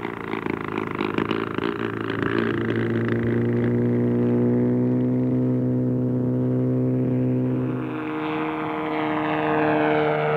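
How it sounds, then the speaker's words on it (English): A gyrocopter on its maiden flight over Easter Island gives a steady, droning propeller and engine hum, loud and continuous, shifting slightly in pitch toward the end. "I prepare to test the gyrocopter on its maiden flight."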